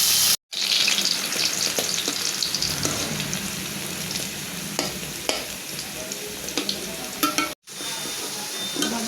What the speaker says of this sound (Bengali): আলুগুলো ভাজা হয়ে গেছে এখন নামিয়ে দিই